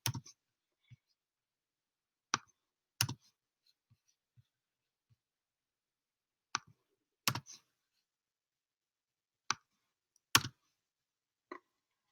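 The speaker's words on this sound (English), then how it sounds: "And I'm going to click comment." A computer mouse clicks sparsely, in single and double sharp close clicks spaced a few seconds apart, with quiet pauses between and no talking.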